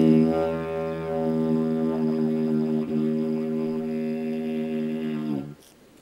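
A homemade plastic-pipe didgeridoo sustains a deep drone with a second, higher tone sounding over it at the same time, holding steadily with a brief dip before cutting off near the end.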